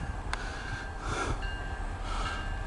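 A CSX B709-22 local freight train passes with a low, continuous rumble and faint wheel squeal, heard from a distance at a quiet, steady level.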